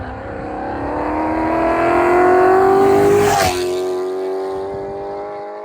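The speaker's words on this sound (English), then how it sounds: "that's a little soundtrack of what all the cars sound like" A Mercedes C63 AMG's 550 hp engine screams louder as it approaches on a track, roars closely past with a sharp drop in pitch, then fades away.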